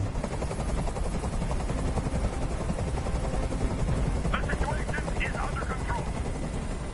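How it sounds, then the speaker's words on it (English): Helicopter in the Detroit: Become Human video game, a steady loud rotor drone filling the whole scene with low thumping pulses, with brief higher game sounds flickering near the end. "I can't stand that noise anymore. Tell that helicopter to get out of here."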